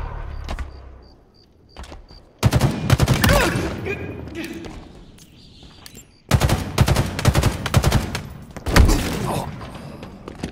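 Rapid gunfire from Halo Infinite online tactical slayer play, with loud dense bursts of automatic shots separated by quieter stretches with beeps and thuds, and a player talking over the action at times.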